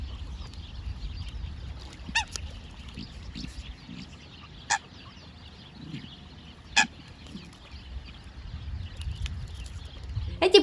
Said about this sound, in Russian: они общаются необычными свистками, не прибегая к привычному кряканью